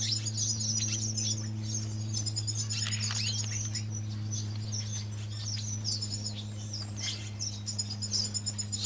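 Red siskins in an aviary give thin, high chirps and twitters in scattered bursts over a steady low electrical hum, birds fairly faint and no one talking.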